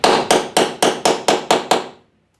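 Eight sharp, evenly spaced hammer blows strike a nail set to drive tacks into vinyl upholstery on a 1929 coupe build, landing quickly and close by before abruptly stopping.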